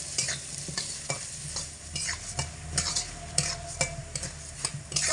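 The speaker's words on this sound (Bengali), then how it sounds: "মুগের ডাল দিয়ে 1/2 মিনিট মতো এইভাবে অনবরত নাড়াচাড়া করে মিডিয়াম আঁচে রেখে ভেজে নিতে হবে" Moong dal dry-frying in a pan over medium heat, stirred without pause, giving repeated close scraping strokes over a steady sizzle with no talking.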